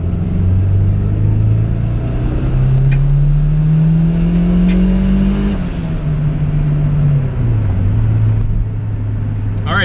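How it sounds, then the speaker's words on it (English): Turbocharged Honda B18C1 engine in an EG Civic hatchback held at full throttle on a dyno-style pull, a loud, continuous rumbling drone whose pitch climbs steadily, dips briefly, then settles, with no talk over it. "2200, flooring it."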